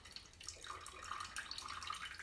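Lemon and lime juice poured into a cheesecake mixture, giving a steady, close liquid trickle and splash that runs without a break for the whole stretch, with no talking over it.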